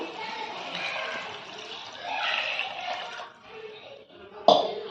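Water poured into a pan of chicken keema makes a soft, uneven splashing and trickling at moderate level, with a sharp clatter near the end.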